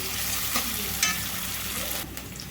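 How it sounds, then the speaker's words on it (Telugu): Onion pieces sautéing with a pinch of salt in a pan, a dense steady crackling sizzle with a light utensil clink partway through, easing slightly toward the end. "ఉల్లిపాయ ముక్కలు ఈ విధంగా వేగితే సరిపోతాయండి"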